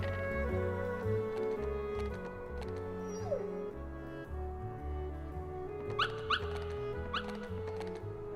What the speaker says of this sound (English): look at all these doggos around here. So many doggos everywhere.